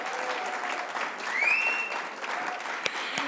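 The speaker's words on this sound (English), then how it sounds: "Let's give them all a nice big round of applause." Audience applause at an awards gala honoring Summit Award recipients, a continuous wash of clapping at moderate level with a brief whistle rising above it.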